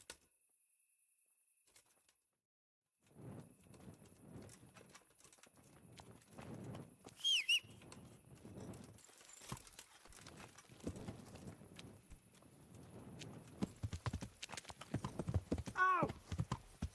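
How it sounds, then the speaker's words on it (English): Horse hooves clip-clop in a steady rhythm as a horse is ridden in the medieval video game Kingdom Come Deliverance, starting after a quiet gap and continuing fairly close, with a whinny and a sharp cry breaking in. "Learn how to ride a horse,"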